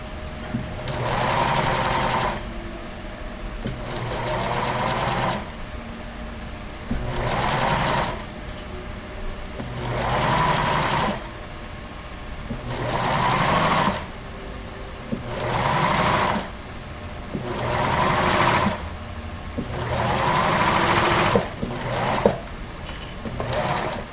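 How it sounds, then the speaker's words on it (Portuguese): A sewing machine zigzag stitches elastic onto a plus-size bra in repeated bursts of fast, buzzing whir, each lasting a couple of seconds with short pauses between, close and steady. "Costuro o zigue-zague."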